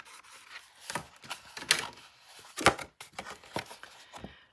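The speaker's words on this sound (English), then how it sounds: "You're going to score it at 1/2 inch, and you're going to score it at 5/8 of an inch." Paper is scored for a 10 x 9 mini album page, giving a series of short scraping and rubbing strokes, close and fairly crisp, in irregular bursts with brief gaps and no talk.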